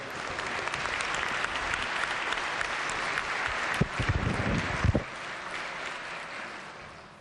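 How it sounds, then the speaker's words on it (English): A legislature chamber in West Virginia breaks into sustained applause from members and gallery, a broad even wash of clapping that holds for several seconds, swells slightly with a few sharper claps, then fades. "please give them a round of applause for our aspiring young business and professional leaders of the state."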